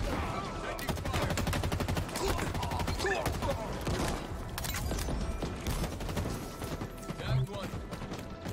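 Rapid gunfire in a Halo Infinite SWAT match: dense, continuous bursts of shots and clattering weapon noise fill the whole stretch at steady loudness, with a voice faintly mixed underneath.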